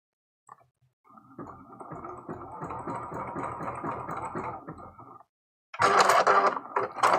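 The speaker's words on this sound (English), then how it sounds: "it's going to be a bigger, a little bit of a wider zigzag stitch" A home sewing machine runs a wider zigzag stitch, its motor whirring steadily for a few seconds with a rhythmic mechanical clatter, then it stops and a louder burst of noise follows.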